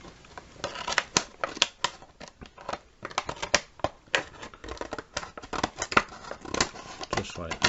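Scissors or a blade snipping through sculpture material to cut out a section of a 3D horror sculpture, a close, irregular run of sharp clicks and crinkles lasting throughout, with a voice talking alongside.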